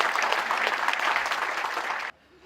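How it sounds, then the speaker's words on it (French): Cabaret audience applauding a singer's performance, a dense, loud wash of clapping that runs steadily for about two seconds and then stops abruptly, leaving quiet room tone. "on l'applaudit bien fort, ça fait toujours plaisir."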